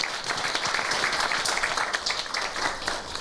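Audience applause at a Seoul meeting where the mayor encourages athletes headed to the Paris Olympics, a steady, dense patter of many hands clapping throughout, moderately loud and without talk.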